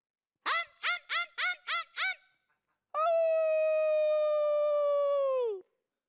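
A voice imitates a dog: six quick, evenly spaced yelping barks, then a pause and one long, steady howl-like wail that fades out abruptly.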